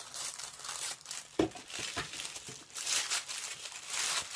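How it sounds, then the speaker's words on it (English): Scissors cut along the side seam of shrink wrap around paint pots, giving a close, steady crinkling and rustling of plastic with a few sharper snips, with no talking. "I'm just going to take my scissors and cut along this side seam."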